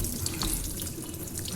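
Tap water runs steadily into a sink as paint residue is rinsed off hands, a close, continuous splashing rush with slight wet patter from the hands moving under the stream.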